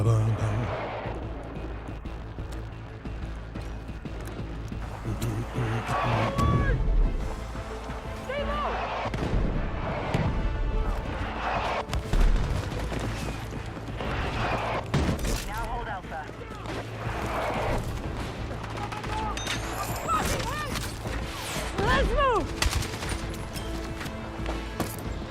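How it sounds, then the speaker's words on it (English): Mortar shells and gunfire in a Battlefield game match, dense repeated explosive booms and shots over a continuous battle din, with voices talking over the action. "Damn, those mortars are a problem."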